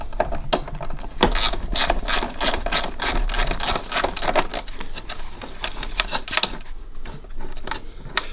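A ratchet clicks rapidly and steadily while loosening bolts on a Ferrari, the close metallic pawl ticking running in bursts for several seconds with no one talking.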